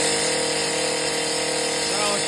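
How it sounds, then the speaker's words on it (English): Power tool cutting wooden dowels on a construction site with concrete, a steady loud grinding whir running continuously without pause. "Malachi's cutting dowels."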